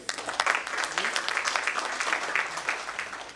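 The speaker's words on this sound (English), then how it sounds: "may you please give a huge round of applause for yourself" Audience applause at an education leadership summit and awards ceremony, steady dense clapping from a large seated crowd, moderately near and even throughout, with no talking.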